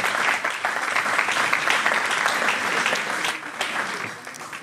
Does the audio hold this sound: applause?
yes